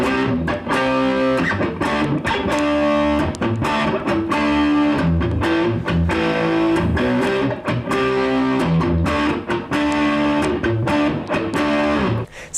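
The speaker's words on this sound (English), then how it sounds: "now let me show you the power chords that go with that chorus." A distorted electric guitar plays a song's chorus in power chords, with thick, loud, crunchy chords struck in a driving rhythm and changing every few beats, with no talking.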